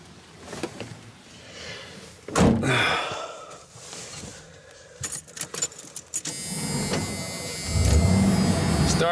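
Engine of a 1990 Ford E150 conversion van cranking and catching, with door and key handling noises first, then a steady idle rumble and blowing air-conditioning fan near the end.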